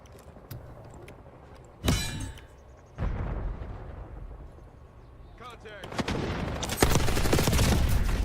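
Gunfire from the Call of Duty video game, with scattered shots and then heavier bursts and rapid fire building toward the end, mixed with voices talking over the action.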